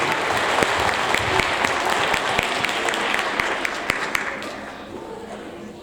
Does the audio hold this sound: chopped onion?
no